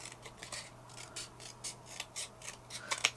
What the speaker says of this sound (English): let's cut along here to make a strip